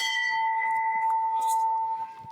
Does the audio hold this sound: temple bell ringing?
yes